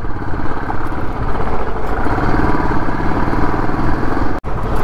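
A motorcycle rides along a rough, patchy national highway on a road trip between Khatu Shyam Ji and Delhi, its engine a loud, continuous drone mixed with wind rumble, broken by a brief dropout near the end.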